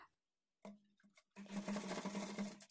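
A sewing machine stitches piping cloth onto a lining blouse, starting with a short whirring burst, a brief pause, then a longer steady motor hum with rapid needle rhythm, close and fairly quiet.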